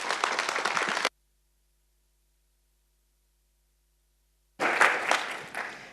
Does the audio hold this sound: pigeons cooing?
no